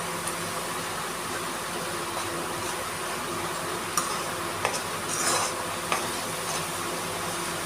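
Food being stirred and mixed in a cooking pan over a steady background hum, with occasional soft scrapes and a few light metallic clinks of the spoon, close up and without talk.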